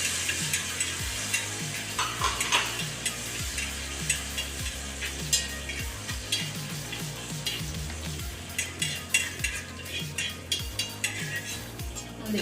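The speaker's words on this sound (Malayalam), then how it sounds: "ഞാൻ വറുത്ത് പൊരിച്ചെടുക്കാം." Raisins fry in a pan and are stirred: a constant close sizzle with regular scraping strokes and light clinks of the spoon against the pan.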